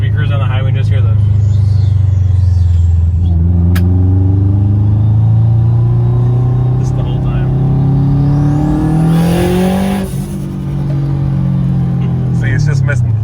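A 600hp car cruises on a highway while its engine misfires, giving a loud, continuous droning rumble with uneven, stumbling pulses, joined by talking from people inside the car.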